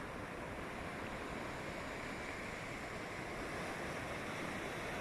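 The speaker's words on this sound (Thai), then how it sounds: "วันนี้คลื่นค่อนข้างแรงนะคะ" Strong sea waves on a beach in Spain, a constant loud roar of surf with no distinct breaks, heard without voices.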